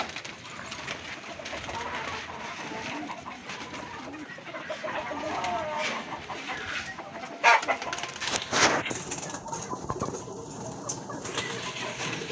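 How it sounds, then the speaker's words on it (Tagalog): Pigeons in a loft give soft cooing and throaty calls amid rustling and shuffling movement, close by and moderately quiet, with a couple of louder sharp flutters or knocks partway through. "Yan ang kalapate."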